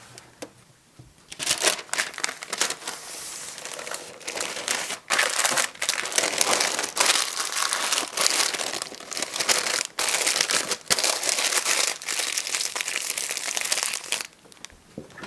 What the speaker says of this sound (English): it says to use wax paper to wrap this, which I do not have. So parchment paper it is.